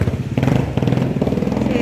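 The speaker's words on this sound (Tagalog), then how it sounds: "Katakot yung mga motor. Uy, ang lakas ng takbo always." Motorcycles race past fast on a market street, a close buzzing engine drone that swells and pulses, with talk mixed in over the traffic.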